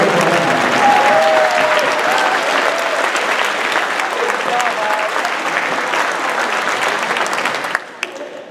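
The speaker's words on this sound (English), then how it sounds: "let's give it a round of applause" Loud, sustained applause from the audience at a school FTC robotics awards ceremony, a dense clapping roar holding steady for about eight seconds before tapering off abruptly at the end.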